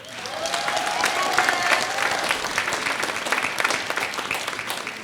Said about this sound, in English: I would like you to give a special round of applause to all those who have assisted you to get here today